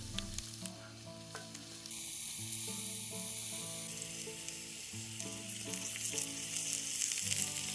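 Quesadillas and sausages for breakfast sizzle and crackle steadily on a grill at a campsite, with occasional stirring and clinking and a hiss that grows louder toward the end.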